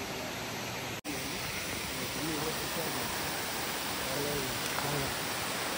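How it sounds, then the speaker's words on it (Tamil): A large waterfall in Kodaikanal pours in a steady, dense roar that fills the whole clip, with faint voices underneath. "வாட்டர் ஃபால் செம பெரிய அருவியாக ஓடிட்டுருக்கு."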